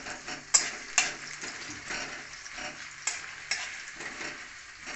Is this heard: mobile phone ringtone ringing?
no